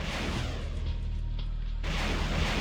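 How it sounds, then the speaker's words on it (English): Distant gunfire and artillery booms in the war strategy game Supreme Ruler Ultimate, a steady low rumble with muffled thuds, continuous and fairly quiet throughout. "Oh, I'm hearing gunfire."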